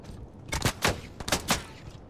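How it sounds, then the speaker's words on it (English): Video game gunfire from incoming shots, with a quick cluster of four or five sharp cracks over about a second and a half, moderately loud with no talking. "Oh, I'm getting shot."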